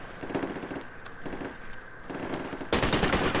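Automatic rifle fire in the military shooter game Project Reality, IDF infantry combat: short rapid bursts repeating through the first seconds, then a louder sustained stretch of firing near the end, no talk over it.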